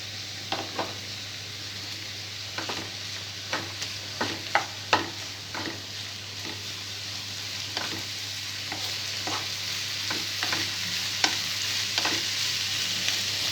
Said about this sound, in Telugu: పసుపు వేసిన తర్వాత మీడియం ఫ్లేమ్లో 5 to 10 minutes బాగా ఫ్రై చేసుకోవాలి.